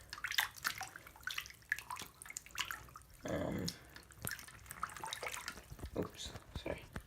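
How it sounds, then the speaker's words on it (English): A bread bag soaks in a plugged sink full of water, with sloshing and dripping splashes around a steady burst of running water midway, heard close under intermittent talk. "put your bread bag in here, soak it"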